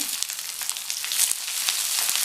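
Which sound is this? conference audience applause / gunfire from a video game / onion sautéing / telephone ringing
onion sautéing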